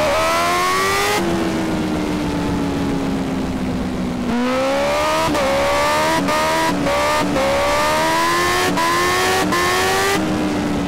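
A BMW S1000RR sport motorcycle in the GTA video game screams at high speed, its loud engine whine rising and dropping through rapid gear shifts, with no talk over it.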